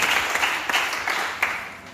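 A church congregation applauding the Lord during a French sermon: a sustained burst of clapping with a few sharper accents, fairly loud and even, and no voices over it.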